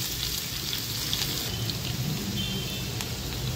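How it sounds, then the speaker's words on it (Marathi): Mustard seeds, cumin and crushed garlic sizzle in hot oil for a tempering, a steady dense crackle and hiss that stays close and even throughout with no voices. "तेल चांगलं गरम झालेलं आहे. मी मोहरी टाकते, थोडेसे जिरे, ठेचून घेतलेला लसूण"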